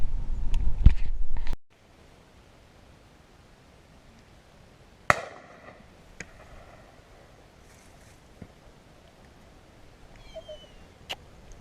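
A shotgun fires once while shooting pigeons over oilseed rape, giving a sharp, loud crack that rings out in the open field, followed by faint rustles and distant outdoor quiet.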